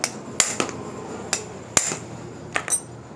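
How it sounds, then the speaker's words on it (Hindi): A hammer striking a T-rod to punch the front fork bolt of a Honda CG125 motorcycle: about seven sharp metallic blows at irregular intervals, close and loud with a ringing clink. "इसके ऊपर टी रॉड रख के पहले इसको अच्छे तरीके से पंच करेंगे"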